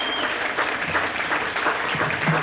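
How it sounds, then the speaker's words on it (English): A crowd at a Coshocton High School football centennial celebration applauds a mayor's proclamation, a steady, even wash of clapping filling the whole moment with a faint voice near the end. "Round of applause, please, for the proclamation."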